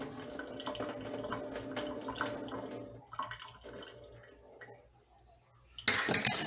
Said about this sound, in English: I'm just going to pour out some of the liquid on top in case there is something floating